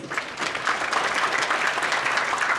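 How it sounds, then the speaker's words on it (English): Steady applause from a conference audience welcoming the Minister of the Environmental Protection Administration at a climate change adaptation partnership event, sustained and dense throughout with no talk over it. "please join me with further applause"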